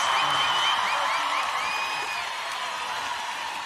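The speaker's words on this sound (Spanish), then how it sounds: "¡Que se escuchen los aplausos y los gritos!" A festival crowd at the Río Gallegos 139th anniversary celebration fills the air with steady, dense applause, cheers and whistles, a continuous wash of noise at moderate distance.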